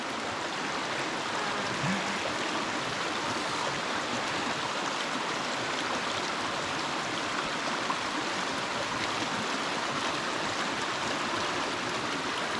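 A river rushing over a water crossing on Maria Island, Tasmania, a steady, dense, close-up wash of flowing water that holds constant throughout with no voices.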